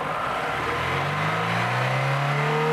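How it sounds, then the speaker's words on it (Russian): A car engine is raised smoothly from idle to about 3000 rpm during an engine mechanics test, its steady tone climbing in pitch over a few seconds, close and continuous with no talk. "плавно поднимаем обороты двигателя до 3000."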